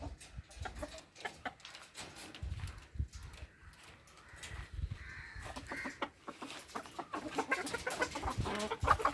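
Chickens cluck nearby in an irregular stream of short, choppy calls, louder bursts rising toward the end over faint background noise.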